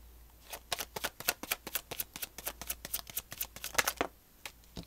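A deck of tarot cards is riffled and shuffled up close, a rapid run of crisp flicking snaps in a steady rhythm lasting about four seconds before stopping.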